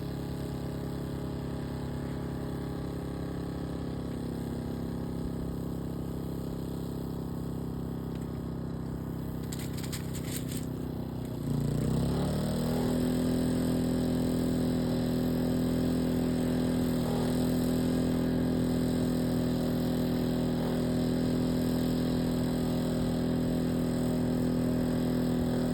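Portable generator rated at 1900 watts running steady, then audibly bogging and rising in pitch and loudness as a 1500 watt infrared heater load switches on, after which it settles into a heavier, louder continuous drone.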